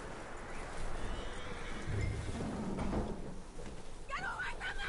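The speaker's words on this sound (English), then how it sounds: "That looks like a decent horse." A horse whinnies near the end in Red Dead Redemption 2, a short rising-and-falling neigh over steady outdoor game ambience with voices murmuring underneath.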